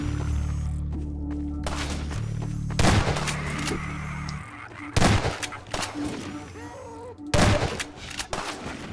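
Sniper gunfire in the Half-Life 2 video game, several sharp, loud single shots spaced a couple of seconds apart over a droning background.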